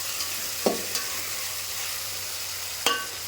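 Tomatoes fry in a pan with a steady, close sizzle, broken by two sharp clinks of a stirring utensil against the pan.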